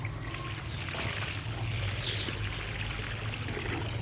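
A laundry mixture of Ariel detergent and Comfort fabric softener is poured for washing bedding. It makes a continuous liquid pour with a steady gurgling stream from start to end, fairly close.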